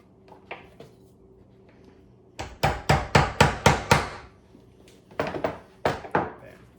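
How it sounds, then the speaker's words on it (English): A hammer drives a nail through the bottom of a shoe: a few light taps, then a burst of six loud, sharp blows in quick succession, a pause, and three or four more strikes, close and without talk. "Now I'm going to put the nail there, and then I'm going to hammer and put a hole in the bottom."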